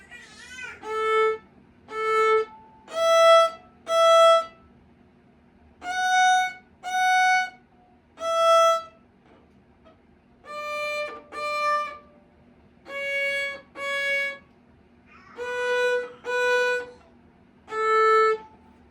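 Single bowed violin notes sound one at a time, each held for about a second with short silent pauses between them, forming a slow simple melody.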